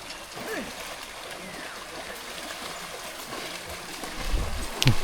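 Horses swim across a deep river, with water splashing, trickling and gurgling around them, a steady wash punctuated by splashes and a louder surge near the end, with voices talking faintly over the water.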